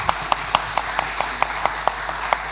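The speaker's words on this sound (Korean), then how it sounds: "박수 한번 칠까요?" A church congregation claps in a steady, fairly even rhythm, with sharp individual claps standing out over a soft, sustained background, moderately close and without talk.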